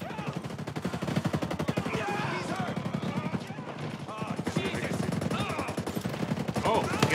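A Mark 17 Shorty rifle fires rapid bursts in Ghost Recon Breakpoint during a Terminator live event, steady automatic gunfire throughout with other shots and game noise mixed in, moderately loud.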